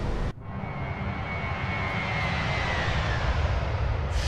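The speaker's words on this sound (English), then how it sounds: "And now we can do a flyby." Jet engines of a Fenix A321 airliner roar steadily during a low flyby in a flight simulator game, a broad, loud, sustained rumble and whoosh that swells slightly throughout.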